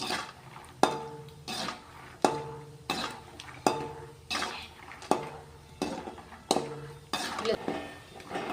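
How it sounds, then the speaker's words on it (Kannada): Peanuts dry-frying in a pan over a slow flame, stirred in steady, rhythmic strokes; each stroke brings a scraping, rattling sweep of nuts against metal, repeating about every three-quarters of a second with no talking. "ಸ್ಲೋ ಉರಿಯೊಳಗೆ ಶೇಂಗಾ ಮೊದಲ ಈ ಥರ ಫ್ರೈ ಮಾಡ್ಕೊಳ್ಳೋಣ"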